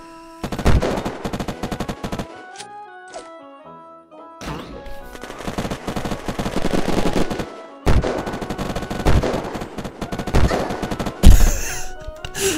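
Repeated automatic gunfire and single shots from the Unturned game during a rooftop arena fight, loud bursts broken by short gaps and a final sharp blast, with no talking.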